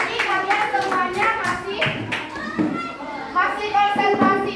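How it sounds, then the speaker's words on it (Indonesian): Children in a classroom clap their hands together in several rapid bursts, the rhythmic claps close and bright, mixed with chatter and a teacher's voice speaking over them. "Kita tepuk tangan dulu, bagus."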